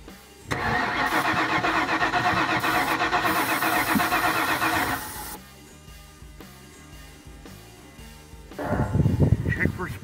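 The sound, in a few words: 1996 Ford F250 engine cranking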